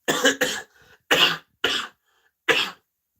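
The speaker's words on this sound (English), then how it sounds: "sorry for me coughing so much" A sick person coughs in short, close bursts: two quick coughs, a faint rasp, then three more separate hacking coughs with silence between.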